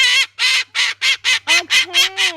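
Parrot at a petting zoo letting out a rapid series of about nine loud, harsh squawking calls, each short burst close by and evenly spaced, the final calls stretching into longer honking tones.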